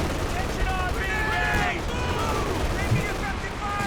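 Machine gun fire and battle noise from a Company of Heroes 2 World War II strategy match, a dense, steady wash of gunfire with scattered sharper bursts running through the whole stretch.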